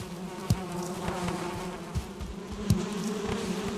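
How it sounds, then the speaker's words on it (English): A swarm of honeybees in the Valheim video game drones with a steady, low buzz, punctuated by a few brief clicks, loud and close with no one speaking over it. "And all the bees are happy, which is good."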